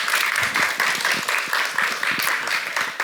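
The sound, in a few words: audience applause in a church lecture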